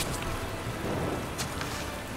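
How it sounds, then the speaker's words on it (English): Steady rain in the video game Magicka, a dense continuous hiss of falling water with faint rumbling underneath, holding even throughout with no voices. "Why is there rain?"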